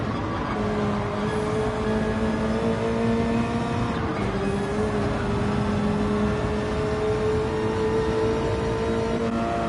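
Two McLaren race cars and a VW race car roar past in Gran Turismo 7 at the Nürburgring in Gr.3 trim, engines droning loud and steady with pitch shifts as they pass.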